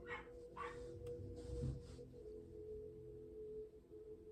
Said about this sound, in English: It's a dog and cat fight.